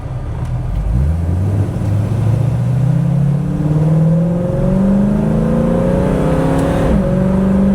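A 1968 Ford Mustang with a 289 V8 and automatic transmission accelerates hard from a standstill, engine note rising steadily through the gears, loud and close, with a brief dip at a shift.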